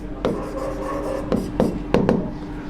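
A pen writes a theorem by hand on paper with a few short scratchy strokes and taps, close and soft, over a faint steady hum.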